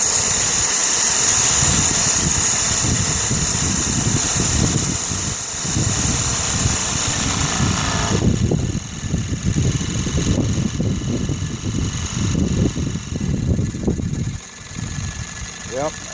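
A Sirius steam engine generator runs at 2,000 RPM with a steady mechanical hum and a thin, sustained whine, holding a constant level throughout with slight shifts in texture.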